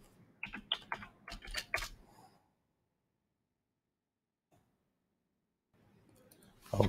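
Quick bursts of keystrokes clack on a computer keyboard, a rapid cluster of sharp clicks over about two seconds, followed by near silence, one soft tap, then faint noise returning at the end.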